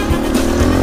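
A dirt bike engine running loud and near in a brief burst, a rough steady motor drone with slight rises in pitch, alone without talk.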